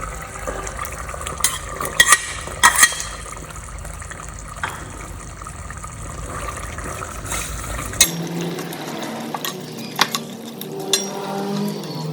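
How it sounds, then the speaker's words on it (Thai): Pork pieces stir-fried in a pan until cooked, for a Thai-style bamboo shoot dish, give a steady watery sizzle with scattered scrapes and clinks, shifting to a thinner texture partway through. "ใส่หมูชิ้นลงไปผัดให้สุก"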